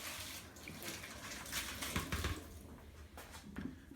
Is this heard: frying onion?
no